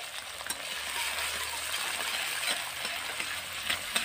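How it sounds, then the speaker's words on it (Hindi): Sliced long onion and chopped green chilies fry in a pan, a steady broadband sizzle running close and even throughout with a few faint clinks of stirring. "दोनों को एक मिनट तक भून लेंगे"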